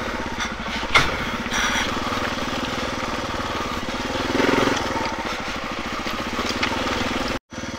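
Motorcycle engine idling steadily a little too fast, a close, continuous rumble running throughout with a brief cut-out near the end.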